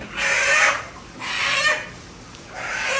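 A native chicken clucks close by, giving three drawn-out calls spaced about a second apart, loud and clear over a quiet farmyard background with no talk.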